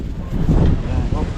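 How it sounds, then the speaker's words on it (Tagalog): Strong wind buffets the microphone outdoors, making loud, continuous low rumbling and flutter. "Malakas ang hangin."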